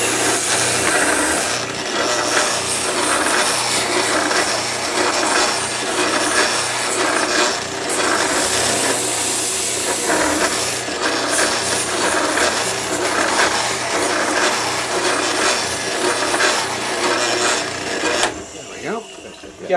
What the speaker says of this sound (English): I like to taper these in, so I go over to the oscillating spindle sander